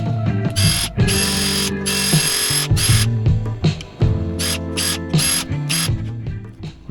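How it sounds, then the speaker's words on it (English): Power drill boring holes in plastic goalie sliders, repeated loud whirring bursts that start and stop, with a grinding bite into the plastic, close to the microphone. "drill them myself."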